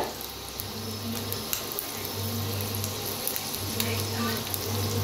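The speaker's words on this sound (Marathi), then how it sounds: "आता छान अंडे फ्राय व्हायला लागलेत बघा" Eggs fry in a pan with a steady, close sizzle and crackle, a continuous hiss with a few sharper pops and no voice over it.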